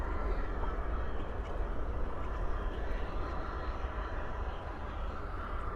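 An American Airlines Airbus A321 from Salt Lake City lands at night at Dallas Fort Worth airport with spoilers up and thrust reversers deployed, a steady broad jet roar heard from a distance without break.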